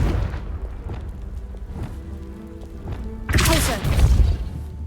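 A Confringo blasting spell explodes in the Hogwarts Legacy video game, a sudden loud burst about two-thirds of the way in followed by a rumbling tail, after a stretch of low game ambience.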